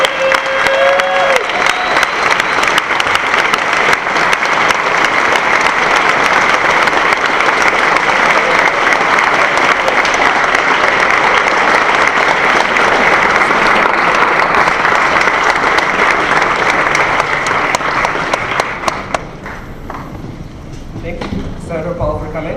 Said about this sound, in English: Let's give him another quick round of applause.